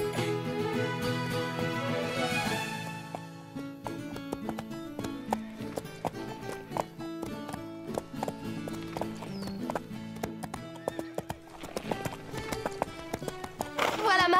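A ridden horse's hooves clip-clop steadily in a French cartoon set on a ranch, a regular rhythmic tapping under background music with voices talking over it.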